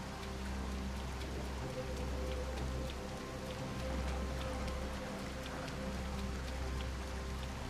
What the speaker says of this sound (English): it's quite the rain.